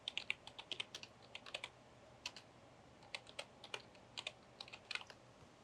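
Fingers type on a computer keyboard controlled over a KVM extender, giving quiet, irregular clusters of crisp key clicks with brief gaps, close by and without voices.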